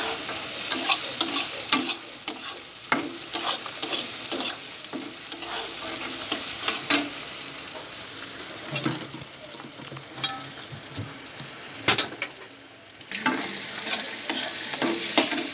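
Onion and capsicum fry in hot oil for chicken kosha, a steady sizzle running throughout, punctuated by sharp scrapes and knocks of a spoon stirring against the pan, with no talking.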